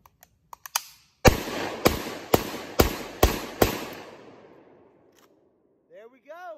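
An SDS Lynx 12 gauge shotgun fires six loud, evenly spaced shots in quick succession, each blast ringing out and decaying, after a few small clicks; a faint voice follows at the end.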